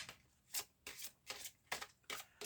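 Tarot cards shuffled by hand for a reading, a quiet, close series of crisp riffling bursts repeating in an even rhythm about every third of a second.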